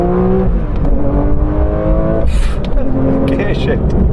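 Porsche 911 S/T driven on a country road, its engine revving up quickly with rising, whining tones and a brief dip as revs change, close and prominent inside the car.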